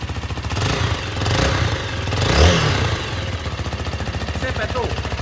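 A Zontes V310 motorcycle engine runs close by with a steady pulsing idle, swelling briefly in two low revs before settling back to an even throb.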